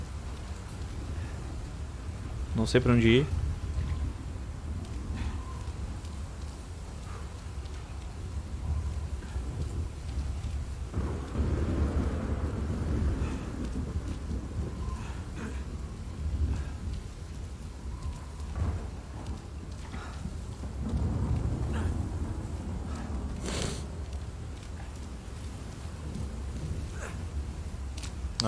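Rain and rolling thunder in the video game Uncharted 4, with a steady wash of rainfall and low rumbles swelling at intervals, while someone speaks briefly.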